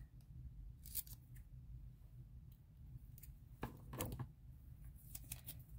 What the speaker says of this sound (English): we'll just take the other piece and cut this one straight